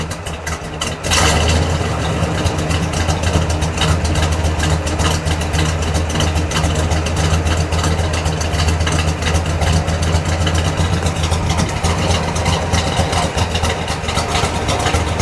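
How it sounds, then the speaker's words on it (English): A 1968 Oldsmobile Cutlass W-31 with a 350 V8 idles steadily and loudly, a deep lumpy rumble holding constant throughout with no revving. "Let's just listen to that for a moment. Just let it idle."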